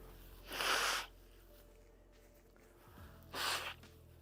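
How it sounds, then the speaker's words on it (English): A sick person blowing their nose twice, two short loud honking blasts a few seconds apart, close up, with quiet room tone between them. "Hold on. I got to blow my nose"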